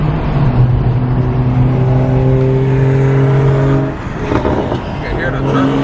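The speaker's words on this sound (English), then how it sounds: "You can literally hear the turbos coming out the exhaust spooling." BMW M340 with catless downpipes accelerating hard, the turbo whine and exhaust drone climbing through the revs, then dipping briefly and building again, loud and close.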